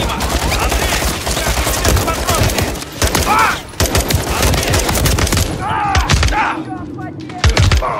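Rapid bursts of automatic gunfire and explosions from a Call of Duty: Modern Warfare 3 campaign firefight, loud and continuous throughout, with shouted voices breaking in over the shooting.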